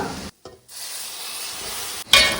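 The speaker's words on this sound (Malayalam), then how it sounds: "ഇനി നന്നായി ഒന്ന് ഇത് യോജിപ്പിച്ചെടുക്കാം കേട്ടോ." Cooked mutton being stirred into a masala base for Kerala mutton roast, a steady close scraping and stirring with a soft sizzle, broken by a short silence, then a louder scrape near the end.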